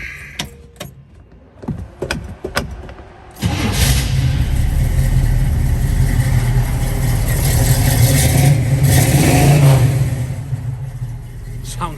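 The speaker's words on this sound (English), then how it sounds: "let's fire up the car, and I want you guys to hear how it sounds now" A 1966 Chevrolet Nova's engine cranks with a few sharp clicks and bursts, then catches and settles into a loud, steady running rumble close by, swelling slightly mid-run.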